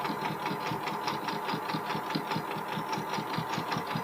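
Sewing machine stitches opaque bralette lining fabric in a fast, steady run of rhythmic needle strokes, close and fairly loud throughout, with no voices.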